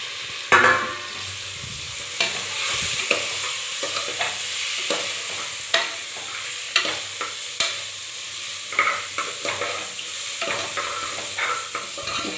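Rice being stirred in an open-mouthed pressure cooker, a steady scraping sizzle with repeated sharp knocks of the spoon against the pot, close and fairly loud, with no talking.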